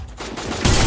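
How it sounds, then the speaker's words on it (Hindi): Gunfire from a Free Fire battle royale game erupts in a dense, loud burst of rapid shots that swells sharply toward the end, with no talking. "पीछे से भी किसी ने गोली चलाई।"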